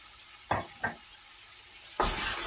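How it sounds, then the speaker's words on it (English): Ground fresh ginger and garlic cooking in a pan, quiet background hiss broken by three short bursts of sizzling and scraping as the paste is stirred, the last burst louder and lingering. "I'm going to cook the ginger garlic in there properly now for another 10 minutes."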